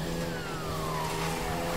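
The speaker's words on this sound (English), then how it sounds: "I'm just driving in circles, drifting around containers." A car in a video game drifts in circles around containers, its engine holding a steady drone with a slowly falling tire-screech tone, continuous and fairly loud with no talk.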